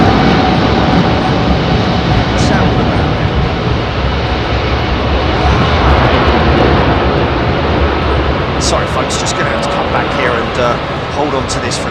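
An Airbus A310 jet takes off from runway 27R at London Heathrow in blustery wind, a very loud, continuous engine roar that dominates throughout, with voices faintly underneath.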